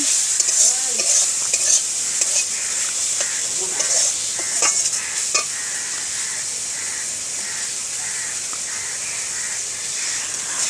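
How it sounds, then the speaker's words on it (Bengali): Spice masala with yogurt is stirred and sautéed in a pan for paneer masala, producing a steady loud sizzle with scraping stir strokes throughout. "যতক্ষণ না মশলা থেকে তেল ছাড়বে ততক্ষণ আমি মশলাটাকে কষাতে থাকব"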